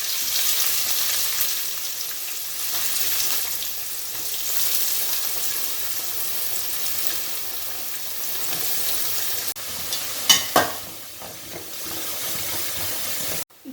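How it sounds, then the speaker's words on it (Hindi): Chopped onion fries in oil in a pan for chole, a steady, hissing sizzle that carries on throughout, and near the end a few louder clatters and stirring knocks break in. No one speaks. "जब भी इसका अच्छा एक स्मेल आएगा तो उसमें ऑनियन डालेंगे,"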